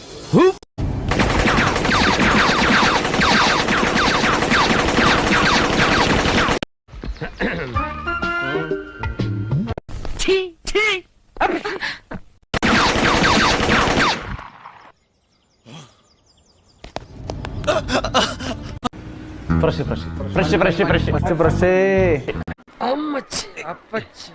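Film gunfire effects with bullets fired in long, dense, loud bursts of rapid shots, broken by short gaps and quieter stretches that carry other scene sounds.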